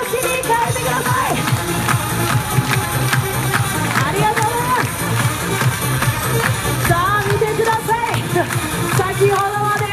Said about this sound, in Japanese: 拍手はそのまま手拍子に変えてください。